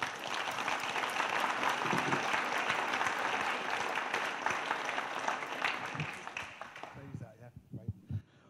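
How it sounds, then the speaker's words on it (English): A political meeting audience gives a warm round of applause, dense sustained clapping from a large crowd that tapers off near the end. "give a very warm round of applause for Mark Serwotka."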